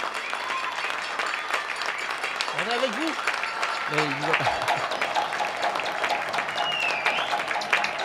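An audience applauds firefighters, ambulance crews and emergency medical workers with sustained clapping, while voices speak over it and a few brief sung or shouted notes rise above the crowd.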